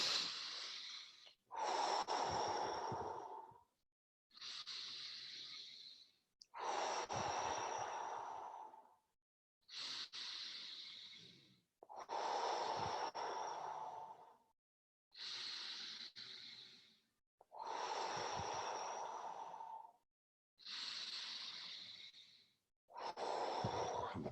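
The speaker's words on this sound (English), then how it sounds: "keep on breathing fully in and breath out, let it go" Deep breathing during a guided breathwork session: about nine or ten full, forceful inhale-exhale cycles in a steady rhythm, each breath loud and airy, separated by short pauses.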